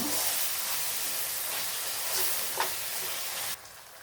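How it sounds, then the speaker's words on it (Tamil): Half a tomato sautéing in a pan for a crab gravy, a steady close sizzle and hiss that cuts off abruptly near the end. "இப்போ ஒரு 1/2 தக்காளி பழம் சேர்த்துக்கிறேன். தக்காளி பழமும் நல்லா வதங்கணும்."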